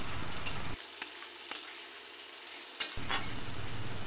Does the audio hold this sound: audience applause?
no